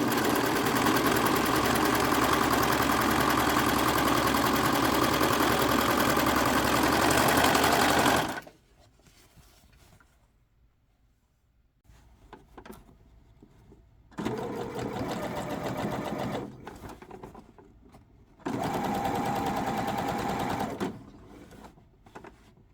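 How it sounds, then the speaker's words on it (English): A serger sewing machine stitches denim with denim-coloured thread. One steady, whirring run of about eight seconds is followed by two shorter bursts separated by quieter pauses. "And then I'm going to serge."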